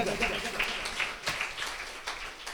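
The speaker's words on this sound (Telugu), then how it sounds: "కొట్టు చప్పట్లు గట్టిగా, ఇంకా గట్టిగా." A congregation bursts into loud, sustained clapping during a Telugu religious sermon, a dense crackle of many hands with a few sharper accents, filling the whole stretch without a pause.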